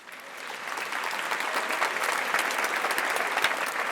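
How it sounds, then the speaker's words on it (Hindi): The studio audience at the grand finale of a TV singing talent reality show breaks into loud, dense applause that swells over the first second and then stays steady and full throughout. "तो retro lovers, classical lovers, please जोरदार तालियां बजा दीजिए"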